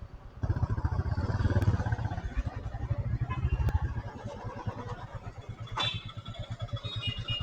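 A motorcycle engine starts up close and settles into a throbbing, pulsing idle, with a clatter partway through before the engine note eases slightly.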